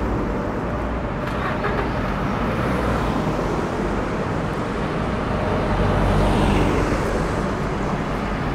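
Road traffic on Eitai-dori avenue in Monzen-nakacho, Tokyo, in front of the great torii of Tomioka Hachimangu shrine: a steady, dense roar of passing cars and buses, loud and continuous throughout with no one speaking.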